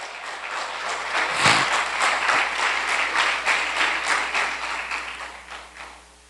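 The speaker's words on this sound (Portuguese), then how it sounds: "Vamos dar um aplauso para o Senhor." A church congregation at a communion service breaks into sustained applause, many hands clapping in a full, even roar that swells and then tapers off toward the end.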